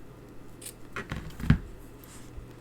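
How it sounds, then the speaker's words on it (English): Ribbon scissors snipping ribbon for a handmade Christmas card, a couple of quick, close, crisp cuts standing alone in a quiet room. "I'm literally just going to cut"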